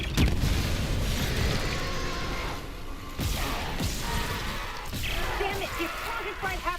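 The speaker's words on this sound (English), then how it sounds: "The explosion fried half the circuit." Explosion and crashing debris in the Dead Space remake game on Xbox Series X, a heavy boom at the start followed by rumbling impacts and whooshes, with voices speaking over the chaos.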